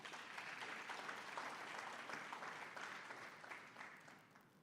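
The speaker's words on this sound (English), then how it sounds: "can we give them a round of applause?" Audience applause at a graduate reskilling and career summit, a steady wash of many hands clapping that holds fairly even and fades slightly toward the end, heard alone at a moderate distance.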